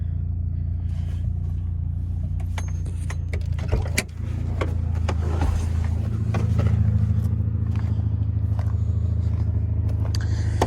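Repaired Honda Accord engine idling steadily with a deep, even rumble, a brief dip near the middle, then settling into a slightly louder smooth idle.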